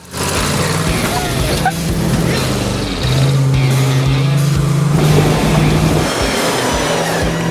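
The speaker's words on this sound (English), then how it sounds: "climb this big hill, put it in second gear, and just step on the gas pedal and go" A 260-horsepower off-road vehicle's engine climbing a big trail hill in second gear, a loud sustained drone that rises in pitch as it accelerates, with a brief dip before building again.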